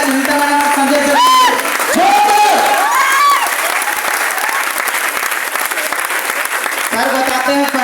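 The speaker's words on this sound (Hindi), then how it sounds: "जोरदार ताली हो जाए सुनीता मैडम और संजय सर" Audience applause for Sunita Madam and Sanjay Sir fills the room steadily at close range, with voices speaking over the clapping at the start and again near the end.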